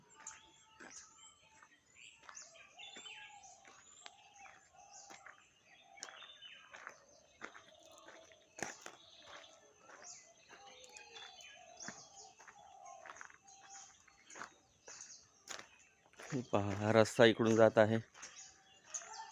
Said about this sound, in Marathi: प्रसन्न सकाळ, पक्ष्यांचा किलबिलाट